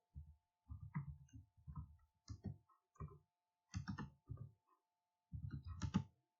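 Someone types on a computer keyboard nearby in short, uneven bursts of soft clicking, with brief pauses between groups of keystrokes in an otherwise quiet room.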